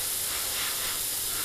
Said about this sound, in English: the nice thing about using alclads is you can spray an area like this without the risk of it going everywhere else